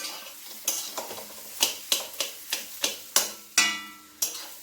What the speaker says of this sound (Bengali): চিনি দিয়েও ভালো করে নেড়ে নেব।